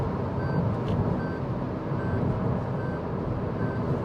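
Steady, evenly spaced ticking of a car turn indicator while changing lanes at speed on a highway, about four clicks over a continuous loud road and engine rumble.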